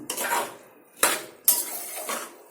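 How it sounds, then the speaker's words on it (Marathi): A metal spoon scrapes and clinks against a pan while rice is stirred and roasted for masale bhat, giving three or four sharp close scraping strokes with brief pauses and a light sizzle underneath. "या तांदळाला व्यवस्थित भाजायचं आहे"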